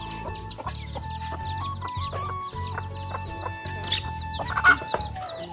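Two desi hens cluck nearby with their many chicks, soft repeated clucks mixed with thin, high peeping from the young birds.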